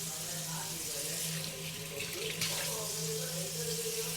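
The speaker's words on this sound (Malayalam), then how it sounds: "ആ വെള്ളം ഒഴിക്കാം." Water poured from a vessel while mixing dough in a home kitchen, a soft steady trickling stream running continuously and fairly faint.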